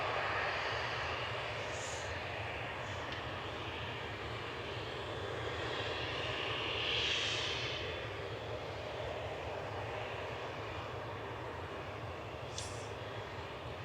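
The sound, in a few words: Helvetic Embraer 195 jet departing Manchester for Zurich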